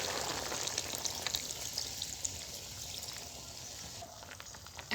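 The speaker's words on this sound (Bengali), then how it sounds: "এখন আমি ঝোল দিয়ে দেব।" Fish broth poured into a pan of frying winter vegetable curry with glassy perchlet fish, giving a steady close sizzling hiss with a soft liquid wash throughout, no talking.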